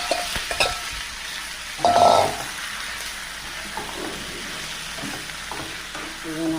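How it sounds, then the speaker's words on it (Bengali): Red amaranth leaves tossed into a hot pan with prawns and frying; a close, continuous sizzle with scraping stirring sounds and a louder hiss as the leaves land, with faint talk. "ভাজা হয়ে গেছে, এবার আমি লাল শাকগুলো দিয়ে দেবো।"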